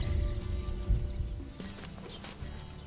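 Wild horse colts being moved along at a sanctuary, their hooves clip-clopping close by in a quick irregular patter, with some rustling and outdoor noise but no talk.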